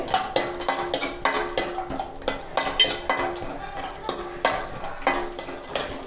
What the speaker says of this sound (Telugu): ఇప్పుడు జీడిపప్పులు వేగించుకుందాము